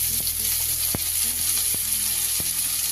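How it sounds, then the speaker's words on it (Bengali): Chopped onions fry in hot oil with cumin seeds, dried chili and a bay leaf, a steady bright sizzle broken by a few sharp spoon taps against the pan; no one speaks. "পেঁয়াজটাকে একটু ভালো করে ভেজে নেব।"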